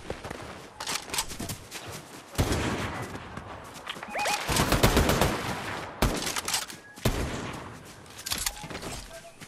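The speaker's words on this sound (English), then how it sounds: "Oh, we got shooting back there." Fortnite gunfire crackles in bursts of rapid shots, some close and loud, others more distant, mixed with footsteps and scattered impacts.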